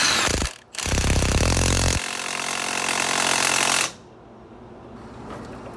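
Milwaukee M18 1/2 inch high torque impact wrench hammering loudly up close in a long burst, a brief pause, then a second sustained rattling run that cuts off into quieter workshop background.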